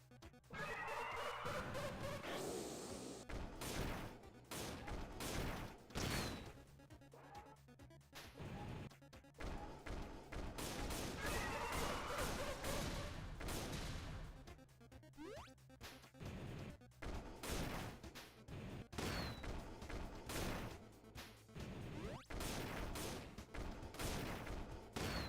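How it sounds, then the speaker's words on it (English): Rapid rocket-launcher blasts and explosive crashes from a shoot 'em up video game, loud and dense, repeating in quick bursts throughout with brief gaps, no talking. "Rocket launcher."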